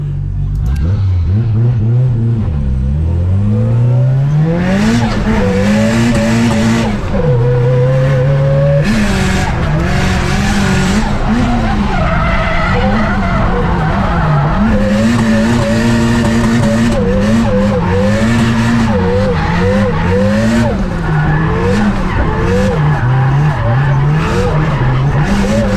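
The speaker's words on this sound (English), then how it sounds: "just the pure raw sounds of the CA18 motor" A rear-wheel-drive Evo drift car with a CA18 engine on a drift competition qualifying run, loud and close, with the engine rising and falling through revs and continuous tyre skidding and squealing throughout.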